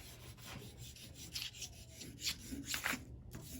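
Soft, quiet scratchy rubbing of colour on paper to blend a children's snowman drawing, a series of gentle irregular strokes close up with no talking.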